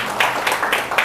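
Audience clapping at a poetry performance during a literary festival, a short burst of steady applause from a crowd, moderately loud and continuous.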